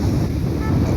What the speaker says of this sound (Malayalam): നല്ല കാറ്റാണ് കേട്ടോ, നല്ല കാറ്റ്